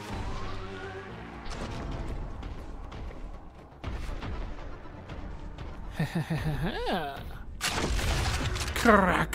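Grenades explode one after another in Warhammer 40,000: Boltgun amid heavy combat, with loud booms and crashing mixed with gunfire and warbling creature or siren-like cries, busy and close.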